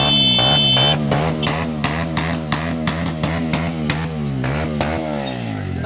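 A motorcycle engine passes close by, loud at first and then sputtering with a rapid, rhythmic popping exhaust as it moves on, with no talk over it.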